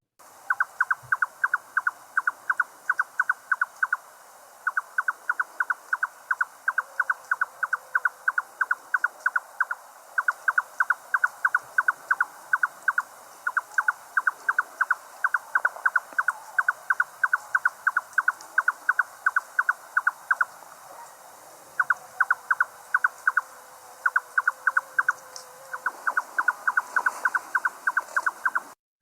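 A red-necked nightjar sings its repeated knocking "cavai" phrase in long rhythmic series broken by short pauses, clear and fairly close against a quiet night background with a faint steady insect drone.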